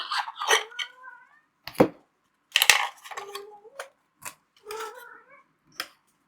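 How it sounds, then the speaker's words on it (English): Kittens meowing in short, high, separate bursts between scuffling bumps and thuds as they play wildly, close by and fairly loud, with no talking. "Chaos Kittens are going wild"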